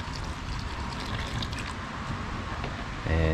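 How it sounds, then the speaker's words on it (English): Water poured from a container into a quick-setting cement mix, running as a steady close trickle that turns into a louder gush near the end. "So you just add some water"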